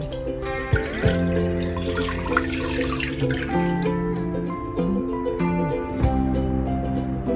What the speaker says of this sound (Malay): dalam periuk yang lain, masukkan 2 mangkuk air dan panaskan